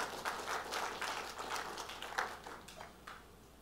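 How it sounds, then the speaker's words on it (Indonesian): A church congregation at a sermon gives sustained, fairly faint applause that fades toward the end. "Tepuk tangannya gak usah tanggung-tanggung."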